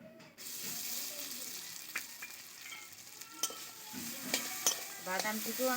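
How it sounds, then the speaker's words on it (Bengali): Ground almond paste fries in hot ghee while being stirred, producing a soft steady sizzle with scattered clinks and scrapes of a spoon against the pan, close and fairly quiet. "বাদাম বাটিয়াটিকেও আমি খুব ভালো করে ভেজে নেব, ওই 1 মিনিটের মতো।"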